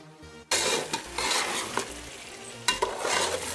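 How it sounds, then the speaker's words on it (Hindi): Vegetables for a vegetable pulao fry and sizzle in hot oil as they are stirred, a steady loud hiss with spoon scrapes against the pot, starting abruptly after a short quiet moment and carrying on without speech. "इन सब्जियों को तेल में भूनने के बाद इनमें अलग ही टेस्ट आ जाता है"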